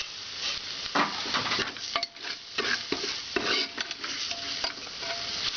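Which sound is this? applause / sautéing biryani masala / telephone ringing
sautéing biryani masala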